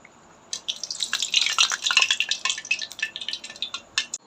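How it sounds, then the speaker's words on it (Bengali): Palm pitha fritters fry in hot oil, a bright, bubbly crackle of popping and spitting that starts abruptly and carries on close and fairly quiet, without any talk. "এইভাবে আমি সবগুলা পিঠা ভেজে নেব।"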